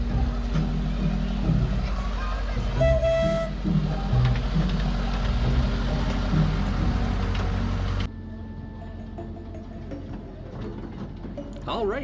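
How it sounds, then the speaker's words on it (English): A steady low rumble and clatter of a small park train rolling along at Bear Creek Park, with a brief whistle-like tone early on, the engine noise dropping after a few seconds. "we're going to enjoy the Bear Creek Park train"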